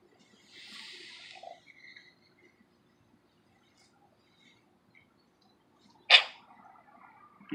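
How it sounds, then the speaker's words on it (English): A single quick, sharp sneeze bursts out in a quiet room, preceded by faint soft rustling and small noises. "Did you just sneeze?"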